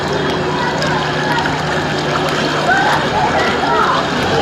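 Heavy rain pours steadily during a storm in Karachi, a dense, loud, unbroken roar of water close by with no pauses.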